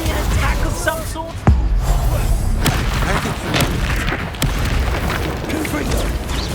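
A Confringo blasting curse goes off in Hogwarts Legacy, a loud booming explosion with sharp bursts and thuds over continuous rumbling combat noise, voices heard alongside.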